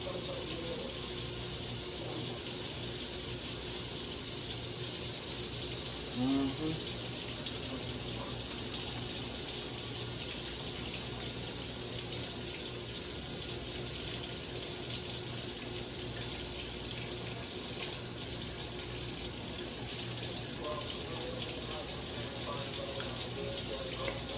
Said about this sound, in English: Wash this pork back off.